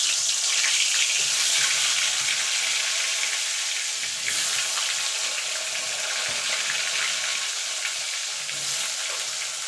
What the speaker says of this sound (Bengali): এই তেলেই আমি আলু বেগুনটা ভেজে নেব প্রথমে আলুটাকে ভেজে নেব